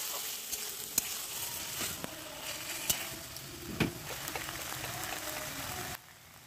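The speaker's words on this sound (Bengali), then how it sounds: "এটা ভালো করে তেলের মধ্যে নেড়েচেড়ে ভেজে নিতে হবে" Cabbage, potato and tomato mash stir-fried in hot oil, a steady close sizzle with scraping stirs and a few sharp clicks of the spoon against the pan, cutting off near the end.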